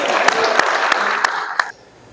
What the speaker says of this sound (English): I think we could get more applause for that